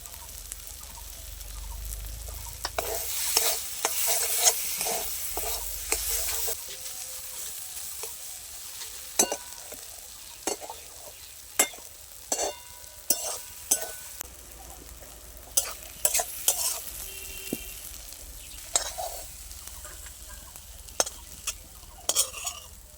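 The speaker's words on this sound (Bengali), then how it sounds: "এতে আমি গরম মশলা দিয়ে একটু নাড়াচাড়া করে লাভিয়ে নেব" Prawn mocha ghonto fries with garam masala as a spoon scrapes and stirs it in the pan. A constant sizzle runs under repeated sharp clinks and scrapes of the utensil, close and fairly quiet, with no talking.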